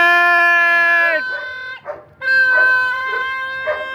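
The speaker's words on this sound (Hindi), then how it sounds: "रेजर भी भौंक रहा है।" A dog yelps and howls in drawn-out, whining cries during a kite-flying festival, a few close bursts with a brief pause between them.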